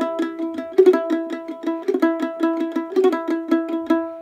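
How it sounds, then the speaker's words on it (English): A mandolin picks quick three-note passing-tone triplets that climb in pitch, bright plucked notes repeating in a steady jig-like rhythm, close and clear with nothing else heard. "one more idea that you might encounter is a passing tone triplet where you're playing three different notes going in ascending or descending order"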